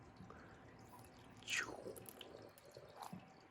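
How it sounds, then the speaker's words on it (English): Water poured from a container splashes and drips onto well-draining potting soil in a backyard pot, a faint trickle with one sharp gurgling splash midway and a few quieter drips after. "Oh, I'm pouring water everywhere."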